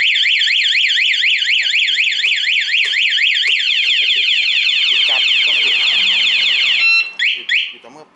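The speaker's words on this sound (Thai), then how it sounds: "ใครโดนรถจะมีเสียงร้อง" A car alarm blares a loud, warbling siren that sweeps up and down in quick repeated cycles, then cuts off and gives a few short chirps near the end.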